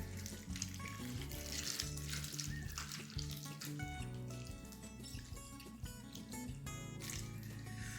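Water pours into a chicken tehari pot of rice over heat, a steady loud hiss and sizzle filling the whole stretch without a break, with no talking.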